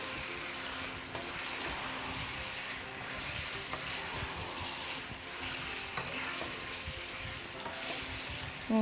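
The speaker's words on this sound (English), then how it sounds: "just now gonna give a quick stir to my chicken" Chicken pieces fry for a karahi, a steady soft sizzle with scraping stir sounds throughout, fairly quiet and without talk.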